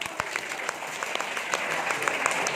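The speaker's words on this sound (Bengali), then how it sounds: "জোরে জোরে একটা হাততালি দাও।" Students clapping together at a school Teachers' Day event, a steady, dense round of applause from a crowd of children that holds at an even level throughout.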